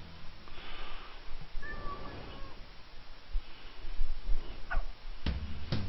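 A cat in the video game Bad Rats gives a couple of short meows over a noisy, busy game soundtrack. Scattered thumps and clatters follow near the end.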